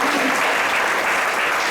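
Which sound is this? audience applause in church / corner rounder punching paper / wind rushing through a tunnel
audience applause in church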